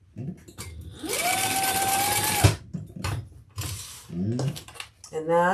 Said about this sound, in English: I'm going to stitch these together so they don't move.